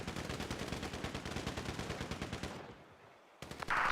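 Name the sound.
heavy sniper gunfire in a video game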